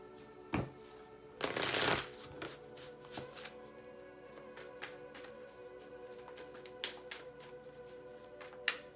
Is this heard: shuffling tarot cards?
yes